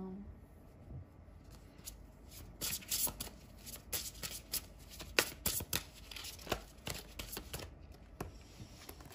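Oracle cards are shuffled by hand close up, with a run of quick riffling flutters and soft slaps that starts after a quiet moment and continues steadily to the end.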